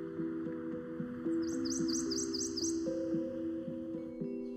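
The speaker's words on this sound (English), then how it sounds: "Each spring in woods everywhere, male songbirds begin singing in an attempt to woo females." Male songbirds sing in spring woodland, a rapid series of high chirping notes repeated in a quick burst, fairly near, over a steady low tonal hum.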